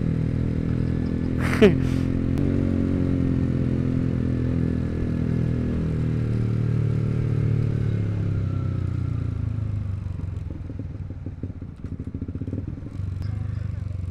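A motorcycle engine hums steadily up close with a low, even drone during a charity group ride in Ambaguio, Nueva Vizcaya, joined by brief clattering and a few scrapes, and quiet voices in the background.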